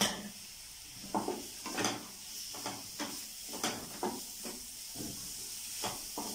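Diced onion and half a capsicum being stirred through a hot pan for restaurant-style gobi manchurian, with a steady hiss and sizzle broken by repeated clinks and scrapes of the spoon against the pan.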